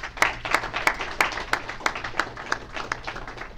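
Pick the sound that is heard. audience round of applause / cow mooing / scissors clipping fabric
audience round of applause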